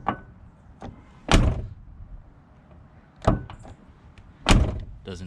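A car's driver's side door, just adjusted, is swung open and shut several times, giving three solid thunks with softer latch clicks between, close by and without talk.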